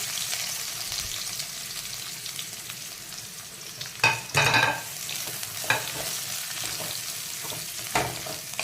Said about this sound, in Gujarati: હવે તેલ થઈ ગયું છે એમાં થોડું જીરું એડ કરીશું પછી આ ડુંગળી કેપ્સિકમ જે આપણે સમાર્યા હતા એ અંદર એડ કરી દઈશું